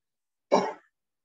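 A single short, rough throat-clearing cough, close and fairly loud, lasting under half a second before silence.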